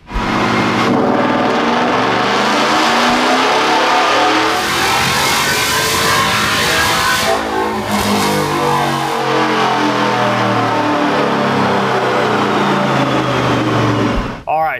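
A 2022 Ford F-150 Gen 4 Coyote V8 with tune, long tube headers and cold air intake revs hard on a dyno, a loud sustained roar that climbs in pitch, then cuts off abruptly.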